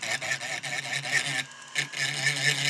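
Rotary burr carving into a non-conforming die, a close rasping, whirring grind that surges and eases with short strokes, with one brief pause in the middle.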